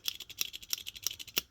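A Billetspin Soul Gen 2 flipper knife snapping open and shut, a quick run of crisp, sharp clicks in rapid succession, close up and quiet with no talk.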